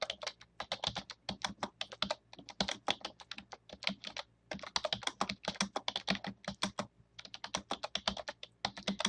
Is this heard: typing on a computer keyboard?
yes